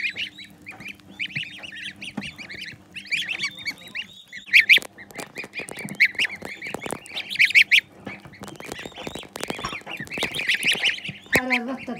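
Goose and turkey chicks raised indoors in a room of a house in Kars, Turkey: busy, close peeping and honking calls overlap in irregular bursts, with people speaking quietly now and then.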